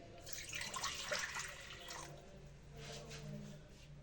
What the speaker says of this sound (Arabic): غنزيد واحد الزلافه ديال الماء دافي